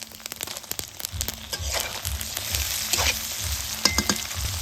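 Chopped tomatoes frying with ginger paste in a pan, a steady close sizzle broken by regular scraping stirs, with no one talking.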